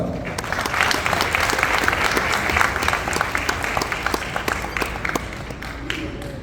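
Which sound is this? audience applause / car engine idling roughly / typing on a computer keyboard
audience applause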